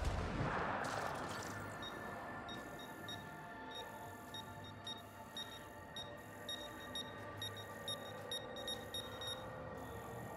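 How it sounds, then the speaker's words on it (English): Mine in the video game Mass Effect Andromeda emitting repeated high, evenly spaced beeps over a dense, steady rumbling background, with no talking. "It's beeping really loud."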